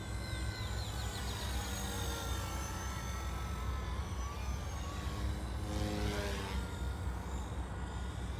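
A Coast Guard RC helicopter makes speed runs and buzzes around a field, its steady engine and rotor drone holding level throughout, with a faint rising whine near the end.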